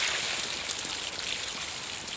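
Water poured from a container onto a potted plant, a steady close splashing and trickling wash that runs continuously without pause.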